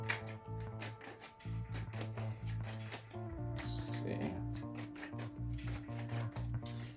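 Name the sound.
shuffling tarot cards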